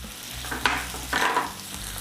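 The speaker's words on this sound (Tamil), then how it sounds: "இதை போட்டு நல்லா வதக்கிட்டு இருக்கலாம்." Green peas and spice powders (chilli, coriander, turmeric, pepper) with salt being stirred and sautéed in a hot pan for samosa filling, giving a close, steady sizzle with louder scraping swishes of the stirring spoon.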